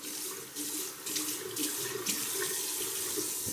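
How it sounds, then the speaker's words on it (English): Cold tap water from an Austrian mountain supply runs steadily from a faucet into a sink, a continuous close splashing rush with no voices. "my tap water, which comes straight from the Austrian mountainside"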